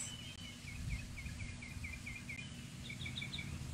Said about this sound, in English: the birds and the rushing water,